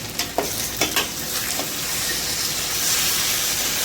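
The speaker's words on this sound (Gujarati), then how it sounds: "તેને થોડીક વાર આપણે તેલની અંદર તળાવવા દેવાનું છે" Whole brinjals fry in plenty of oil for a Gujarati shaak, a loud, steady hiss punctuated early by a few scraping stirs, then swelling into continuous sizzling with no one talking.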